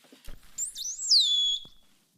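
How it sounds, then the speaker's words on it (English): A single dolphin whistle, a bright tone that sweeps up and down then glides smoothly into a long steady note before fading, with a few faint thumps around it. "Let's hear the dolphin's whistle."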